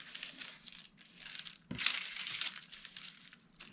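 Parchment paper folded along a score mark gives soft, continuous crinkling and rustling, close and quiet, with a brief crisp crease near the middle.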